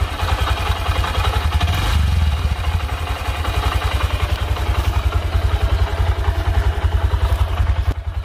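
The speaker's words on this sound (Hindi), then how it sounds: "साउंड देख लो आप साथ के साथ इसकी," A Honda Shine SP 125 motorcycle engine idles close by with a steady, rapid mechanical putter and clatter, briefly swelling around two seconds before settling back into an even idle.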